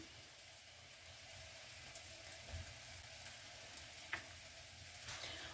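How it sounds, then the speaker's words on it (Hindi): Chicken browning in a kadahi gives a steady, soft sizzle and crackle, with faint stirring clinks now and then, heard alone with no voices. "जब तक हमारा जो चिकन है वो भुन रहा है"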